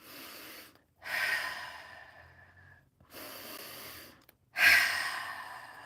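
A voice imitates deep breathing: several long, slow, audible breaths in and out with short pauses between them, close and breathy.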